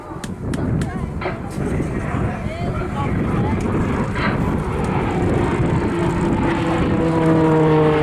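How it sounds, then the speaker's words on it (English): A Shorts Tucano T1 turboprop with an uprated Garrett TPE engine rolls through a display pass at a seaside airshow, producing a loud, continuous propeller drone and rising whine that swell over blustery wind noise. "the uprated Garrett TPE turboprop engine fitted to the RF Tucano by Shorts in Belfast"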